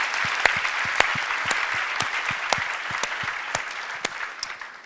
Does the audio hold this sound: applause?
yes